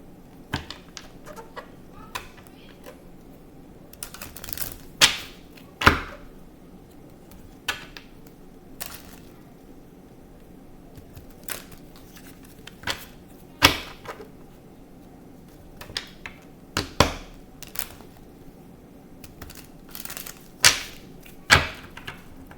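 Intermittent crisp slaps and riffles of tarot cards being shuffled, with quiet gaps between bursts and a faint background hum.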